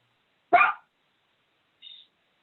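A dog gives a single sharp, loud bark in an otherwise quiet room, followed by a faint, brief high yip or squeak a moment later.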